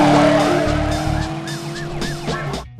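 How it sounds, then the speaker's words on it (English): A 1970s-style tyre screech effect from a police chase video game: a loud, continuous squealing screech with wavering, warbling pitch over an engine hum that stops abruptly at the end. "even down to the 1970s tyre screech effect I love so much"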